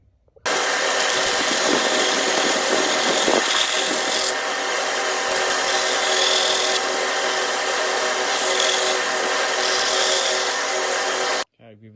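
A power tool saws through scrap wood to rough out a lure shape, a loud continuous grinding buzz lasting about eleven seconds before stopping abruptly.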